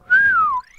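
A person attempting to whistle, producing one clear sustained whistle that glides gently downward before cutting off, close and alone.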